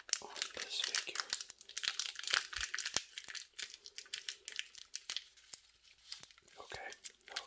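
Crinkling, tearing strips of adhesive tape being pulled and pressed onto a Funko Pop vinyl figure, close sharp rips and rustles with a person talking softly throughout.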